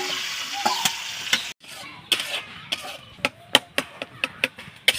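Food sizzles in a hot mix of ghee and oil while a utensil scrapes and stirs, adding sharp, irregular clicks over the soft frying hiss; the sound drops out briefly partway through.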